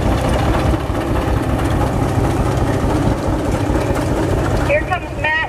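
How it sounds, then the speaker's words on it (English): A high-crop 1951 John Deere tractor, one of 246 built, runs steadily at a tractor parade, its low engine drone constant and loud, with a voice speaking over it. "President John Housen on his high prop John Deere."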